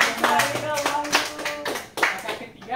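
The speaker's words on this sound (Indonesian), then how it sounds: "beri tepuk tangan dulu ke Wahyu." Classroom students clap for a classmate, a short burst of brisk, overlapping applause close by, mixed with a few voices, fading out after about two seconds.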